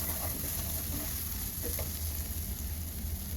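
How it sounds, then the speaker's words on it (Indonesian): Dry spices for empal gentong sizzling in a pan over low to medium heat while being stirred, a steady close crackle with faint scraping, no talk. "Tumis kembali sambil diaduk rata."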